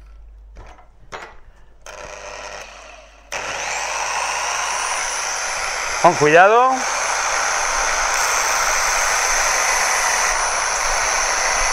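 A drill sands a small part for a hand-made vacuum pump: a few short clicks, then a loud, continuous whirring whine with a brief pitch swoop midway as it bites, and a voice speaks once near the start.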